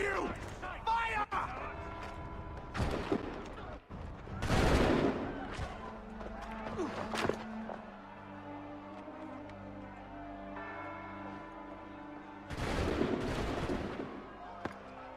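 A musket volley in Assassin's Creed III bursts out as loud, ragged gunfire, with several broad blasts and crackling shots spread across the clip, mixed with mechanical creaks and clatter; a voice shouts an order just before it.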